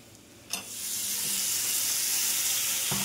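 Tomatoes drop into a pan of vegetables frying in ghee and oil, setting off a loud, steady sizzle that swells and holds, with a few clinks of utensils.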